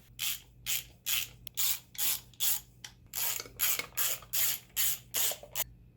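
Ratchet wrench working the chain guard cover bolts loose on a Honda XR100 dirt bike, a close, loud series of rapid clicking bursts in a steady rhythm with brief pauses between strokes, over a low hum, with no talk.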